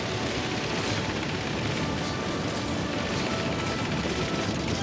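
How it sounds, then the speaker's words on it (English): In the World of Warplanes flight game, an enemy plane fires on the player's aircraft: a dense, continuous roar of engine noise and crackling gunfire holds at steady loudness with no clear gaps. "He's shooting at me, he's shooting at me."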